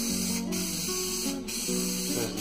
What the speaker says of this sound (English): So I'm just spraying some of this contact cement on here.